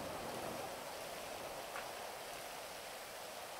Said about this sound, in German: Aber es scheint mir so, dass der Regen gleich aufhört.